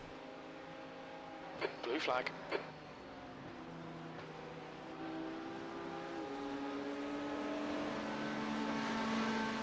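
Multiclass race cars, including LMP2 prototypes, run at Petit Le Mans in the iRacing simulator, with a steady engine drone rising slightly over time beneath a brief radio voice.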